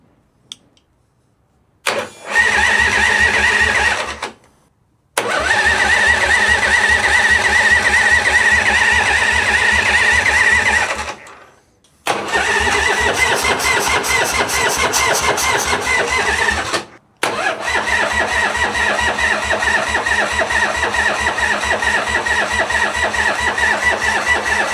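A 1985 Harley-Davidson FXWG with a CV40 carburetor, in neutral, cranks repeatedly without firing: four long, loud bursts of starter grinding and engine turnover, separated by short silent pauses.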